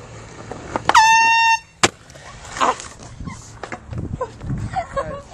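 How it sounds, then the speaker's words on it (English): A hidden air horn gives one loud, harsh blast lasting about half a second, close by, followed by scattered knocks and people's voices. "He doesn't know we have the foghorn."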